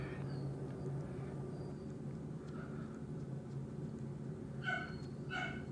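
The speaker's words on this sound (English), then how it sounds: "my dogs are terrible today." Several dogs bark in short bursts indoors, the sharpest yaps clustered near the end over a steady room hum, with no talking.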